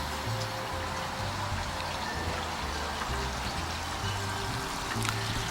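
Water sprays steadily from a garden hose nozzle, a continuous hiss and patter of droplets that stays level throughout, with a low rhythmic hum underneath.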